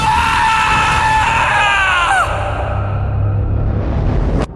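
A man screams in fear in a horror audio drama, a loud, drawn-out cry that rises and then falls away, with an eerie low rumble of background sound continuing after it.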